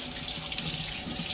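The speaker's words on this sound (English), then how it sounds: "We'll do rinse with a little bit of cold water here." Cold tap water runs steadily over canned snails in a colander, a close, continuous hiss and splash with no talking.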